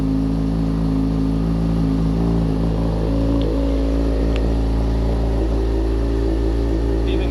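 A crashed Yamaha FZ6R motorcycle engine idles steadily right up close, a loud, constant low mechanical hum with no revving.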